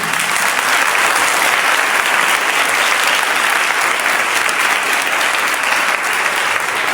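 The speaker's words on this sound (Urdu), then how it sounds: "خدا کی ذات کے لیے کوئی زوردار تالی بجائیں" Loud, dense applause from a large crowd at a Christian sermon, steady and unbroken from start to finish.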